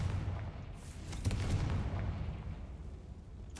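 A deep blast booms out as the Confringo spell is cast in a Harry Potter video game, a rumbling explosive burst followed by a lingering low roar and a second sharp hit at the end.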